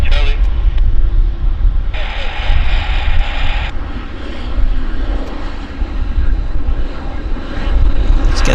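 An airliner taking off from runway 26 at Vancouver International Airport, a steady loud jet engine roar with broadband rushing noise, with voices talking over it.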